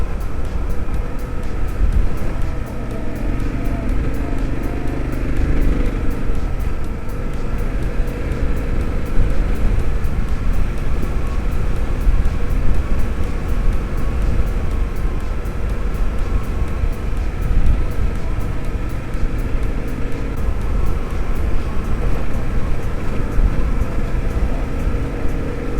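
A dirt bike rides through sand dunes in Death Valley, a continuous rushing engine drone with wind buffeting, steady and loud for the whole stretch with no talking.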